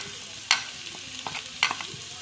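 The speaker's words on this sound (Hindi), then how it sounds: "इसको मैं ऐसा ऐसा 5 मिनट तक फ्राई करूँ" Spices for a homemade pickle stirred and fried in a pan: a soft sizzle with a couple of sharp scraping strokes of the spoon, close and fairly quiet, with no talking.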